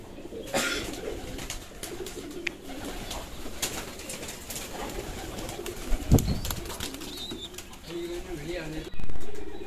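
Pigeons kept in a colony breeding cage, with soft cooing and scattered wing flaps over steady background noise and voices, plus a louder rustle near the end.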